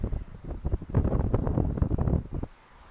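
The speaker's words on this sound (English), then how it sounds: "And it's windy, isn't it?" Wind buffets a microphone on a beach in loud, rumbling gusts for most of the clip, then drops away to near quiet at the end.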